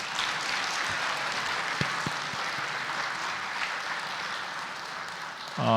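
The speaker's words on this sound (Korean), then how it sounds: "서로를 위해서 박수 한번 하겠습니다" Sustained applause from a large church congregation fills the room evenly, with a few louder individual claps standing out, then tapering at the end.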